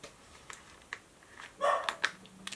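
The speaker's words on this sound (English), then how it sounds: "I know she's going to bark again." A dog indoors lets out a few short, sharp barks near the end, close and moderately loud, after a quiet stretch with small scattered noises.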